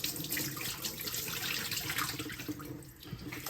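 Rice being rinsed in water at a kitchen sink for gumbo, with continuous splashing and swishing of water, close and steady.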